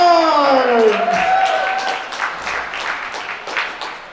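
A convention crowd applauds for a Bucky Barnes Winter Soldier performer at CarrierCon 2022, with loud steady clapping following the tail of an announcer's amplified voice.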